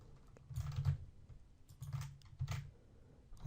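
Someone types on a computer keyboard in short, soft bursts of clicking keystrokes, three small clusters separated by pauses, close and quiet with no talk.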